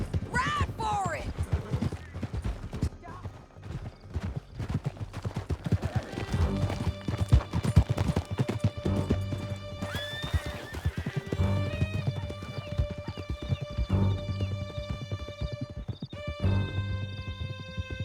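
Horses galloping through a canyon in Red Dead Redemption 2, with rapid clip-clop hoofbeats and a loud whinny near the start, while people speak and music plays over the continuous galloping.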